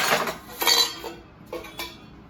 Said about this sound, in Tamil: இப்போ நான் பாத்திரம்லாம் எப்படி அரேஞ்ச் பண்ணுறேன்னு பாருங்கள்